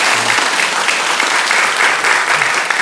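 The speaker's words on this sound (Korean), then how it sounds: "우리 박수로 한번 환영하도록 하겠습니다" Church congregation at a Sunday morning service applauds to welcome newcomers, a loud, dense, continuous roar of many hands clapping at close range with no talk.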